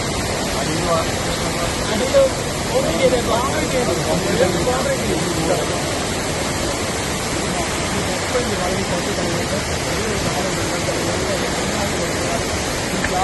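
Water flows steadily through a channel at a landslide site in Vilangad, Kerala. It makes a constant, fairly loud rushing hiss that holds the whole time, with faint voices murmuring underneath.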